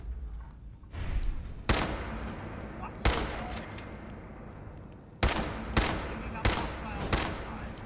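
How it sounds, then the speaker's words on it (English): Fallout 4 gunfire in a supermarket firefight: several sharp, loud shots land in irregular bursts about a second apart, with the sustained crackle of battle noise filling the gaps between them. "Damn, you're shooting way too much."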